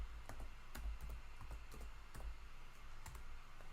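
Typing on a computer keyboard up close, a quick irregular run of sharp clicks and taps over a low hum, with no voices.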